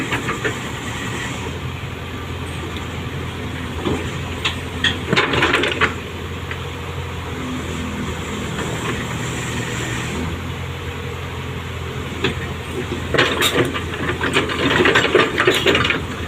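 Komatsu excavator clanking and grinding as it crawls onto a trailer, a steady mechanical rumble with bursts of metallic rattling and squeaking tracks, no talk.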